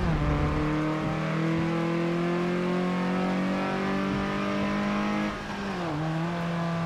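A Ford Focus RS hot hatch engine in Forza Motorsport 7, droning loudly and steadily under power with a brief dip and shift near the end before pulling again.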